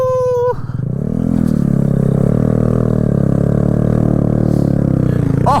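A Kawasaki Z125 with stock gearing is ridden hard, pulled up into a wheelie, its engine held in a loud steady drone that climbs slightly after a brief dip, close to the rider and alone without talk.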